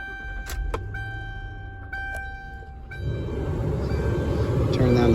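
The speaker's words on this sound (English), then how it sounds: "I'm starting this up to get some air going" A 2009 Lincoln Town Car Signature Limited starting: a couple of chimes and clicks inside the cabin, then the engine catches and settles into a steady low idle rumble with the blower fan rising.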